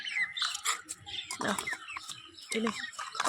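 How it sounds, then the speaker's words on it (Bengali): Chickens cluck in short bursts amid a busy farmyard, close by, with voices now and then. "গতকাল যে মুরগিগুলো নিয়েছিলাম এখনও তিনটে রয়েছে দেখেছ"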